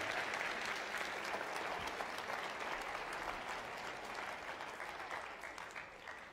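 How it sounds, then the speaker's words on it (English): Sustained applause from a crowd, steady dense clapping throughout that tapers slightly toward the end. "Let's give him another huge round of applause, guys."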